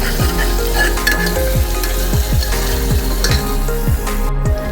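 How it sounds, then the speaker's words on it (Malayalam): Onions sauté in hot oil with garlic and ginger in a pan while making pasta, a steady dense sizzle with repeated stirring scrapes and light utensil clinks, close and continuous with no voices. "അതിനുശേഷം സവോളയും ഇട്ട് വഴറ്റുകയാണ് ചെയ്യുന്നത്."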